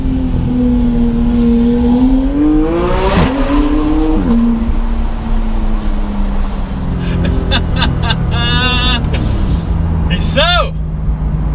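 A Porsche 991 GT3 engine drones steadily and loudly throughout, its pitch rising and falling as the car accelerates and shifts, with a sharper rev near the end.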